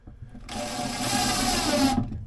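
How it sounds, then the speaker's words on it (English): A power drill whirs steadily as it drives screws into a repaired cupboard door hinge, starting after a brief pause and holding an even, close, continuous whine for about two seconds. "You don't want to go crazy with your drill,"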